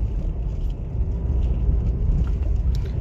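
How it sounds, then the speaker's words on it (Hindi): Maruti Baleno Delta petrol car accelerating gently in second gear, a steady low engine hum and road rumble heard from inside the cabin, with no talking. "देखो अब इसको सेकंड गियर पे एक्सेलरेट करते हैं हल्का सा"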